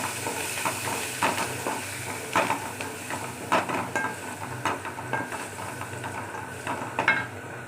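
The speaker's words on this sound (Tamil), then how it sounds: "கருவேப்பிலை போட்டுக்கலாம். நல்லா வதக்கலாம்." Curry leaves sautéing in a hot pan, a constant bright sizzle broken by repeated rhythmic scraping strokes of a spatula stirring them, close and fairly loud.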